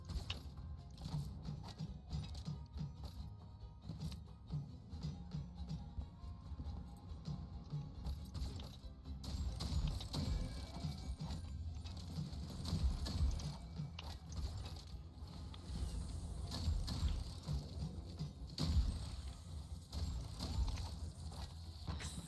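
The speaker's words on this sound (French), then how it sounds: "C'est mon cheval qui fait ce bruit." A horse's hooves clip-clop through a dry, clattering run of mechanical-sounding knocks in the Western video game Far Far West, quiet and irregular, with gear-like clicks mixed into the stepping.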